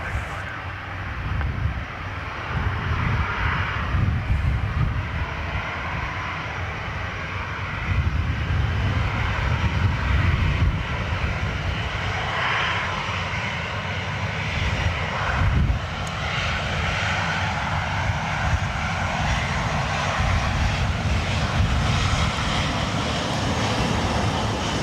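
Jet airliner taking off from runway 10 right at Dublin Airport on a windy day, a sustained deep engine roar that builds and swells with wind buffeting, heard from a distance for the whole stretch.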